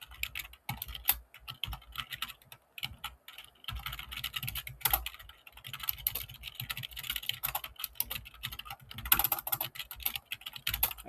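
Computer keyboard typing programming code, quick irregular clicks and clacks in bursts with brief pauses, close and clear with no talking.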